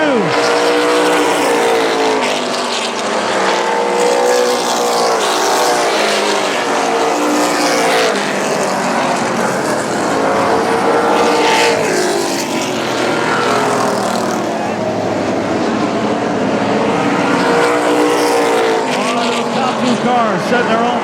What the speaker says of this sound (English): Cars setting their own pace.